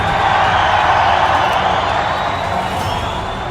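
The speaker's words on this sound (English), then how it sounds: "the roar of the crowd" A wrestling arena crowd roars and cheers in a dense, continuous wash of noise that stays loud throughout, easing only slightly toward the end.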